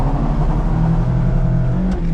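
A 2024 Mazda MX-5 GT RS with a manual gearbox, track-mode stability control on, launching hard from a standstill with some wheelspin: a loud, steady engine roar with a rising note, heard close from inside the cabin.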